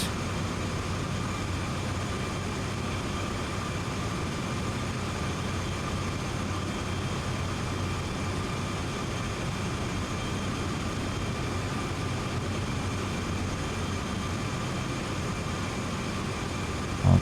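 Steady low diesel rumble of locomotives hauling a heavy grain train up Sand Patch Grade in Train Sim World 2, a continuous droning engine hum with faint tonal whine, unchanging throughout.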